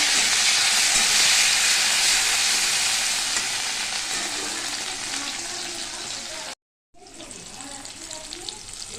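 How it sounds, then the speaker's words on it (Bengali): Chopped tomatoes hit hot cumin in a pan for paneer curry and set off a loud, steady, close sizzle. The sizzle fades slightly, then drops out briefly and resumes a little quieter. "আর কিছুটা জিরে গরম হয়ে গেলে কেটে রাখা টমেটো দিয়ে দিলাম।"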